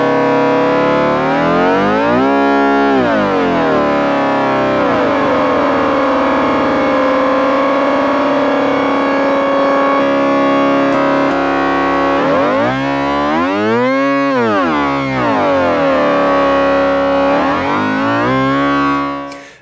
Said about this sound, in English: I'm going to turn up cross mod depth